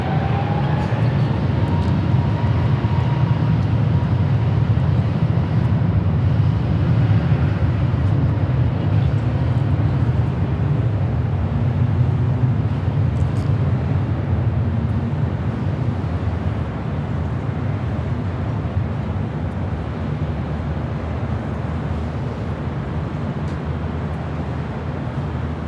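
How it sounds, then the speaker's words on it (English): An Airbus A321neo airliner rolls down runway 24 left at LAX for takeoff, a loud, continuous low engine roar with a broad rushing hiss that holds steady and eases slightly toward the end. "Delta 446. A321neo rolling down 24 left."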